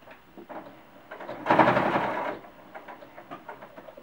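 A sewing machine runs a short burst of about a second, stitching one continuous seam on a handmade cloth doll, fairly faint against quiet background rustles.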